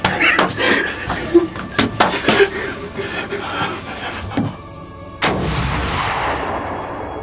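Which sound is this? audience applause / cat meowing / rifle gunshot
rifle gunshot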